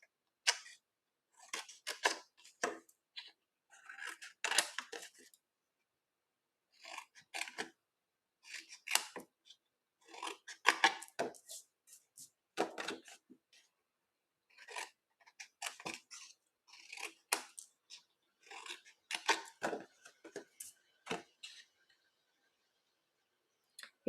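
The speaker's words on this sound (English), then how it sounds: "We're just going to snip up those score lines to make our tabs." Scissors snipping along score lines on white paper while cutting tabs for a custom lidded gift box, a series of crisp close snips in irregular bursts separated by short silent pauses.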